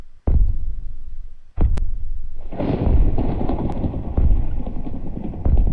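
Thunderstorm during a hurricane in the Minecraft video game, with loud, close thunder cracks and booms followed by a sustained rumbling roar of storm noise.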